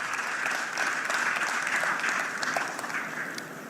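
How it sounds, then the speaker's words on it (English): An audience claps for the master of ceremonies at a live results-release event, a dense, even round of applause that tapers slightly near the end. "Our MC, I think he deserves a clap."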